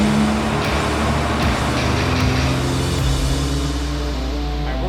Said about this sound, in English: Guys, it's dyno time. Let's get this thing up. Let's make some pulls.